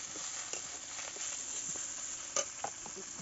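Onion dropped into hot oil in a wok, sizzling steadily at low level with a few brief crackles and stirring taps, no talking.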